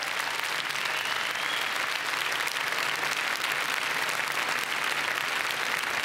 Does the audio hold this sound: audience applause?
yes